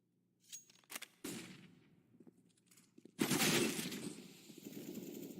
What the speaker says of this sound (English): Big headshot from Akez.